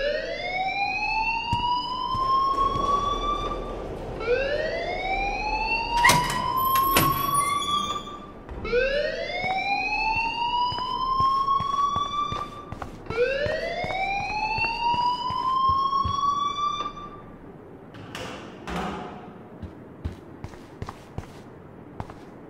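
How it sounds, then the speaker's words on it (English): In the video game Life is Strange, a school alarm wails in repeated rising sweeps, four long whooping cycles, loud and close, with brief clatter and thuds between them before it stops. "please turn off that alarm since that's your"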